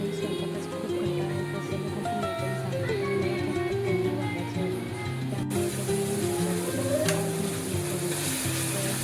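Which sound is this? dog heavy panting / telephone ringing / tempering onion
tempering onion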